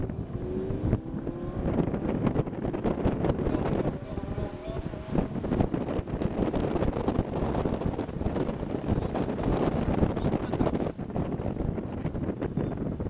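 A Lamborghini Huracán Spyder accelerates on the Le Castellet circuit, its engine a loud, continuous roar with rising pitch sweeps as it pulls through the gears, heard close with heavy wind buffeting throughout.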